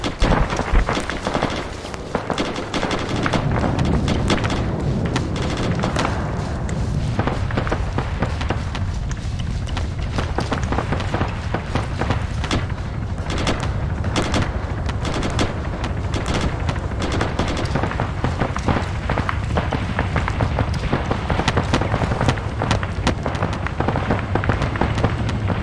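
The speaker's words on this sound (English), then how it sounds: "gunfire behind us" Sustained gunfire in the military shooter ArmA 3, dense bursts and single shots crackling continuously for the whole stretch, loud and close with a steady background rumble and no voices.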